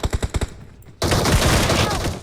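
Video game gunfire, a rapid burst of about six close loud shots, a brief pause, then a dense roaring stretch of sustained gunfire and explosion noise.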